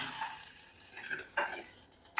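Mustard seeds fry in hot oil to temper dal cooked with onion, tomato and green chilli, a close, quiet hiss and crackle with a few small pops and a brief clatter of utensils.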